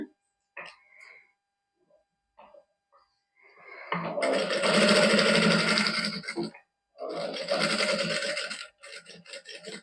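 A sewing machine stitches a garment neckline in a Punjabi boutique, running in two sustained rattling bursts separated by a short pause, loud and close, with light handling noises around them.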